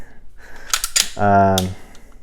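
Trigger of a Sig Sauer P320RX Compact pistol pressed through its take-up: a few sharp mechanical clicks, then a loud resonant metallic snap that rings briefly, close and clear with no talk over it.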